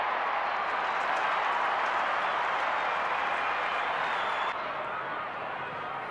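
A steady, dense roar from an Australian football (AFL) crowd cheering after a goal, with North Melbourne playing in 1993. The cheering stays loud throughout and eases slightly toward the end.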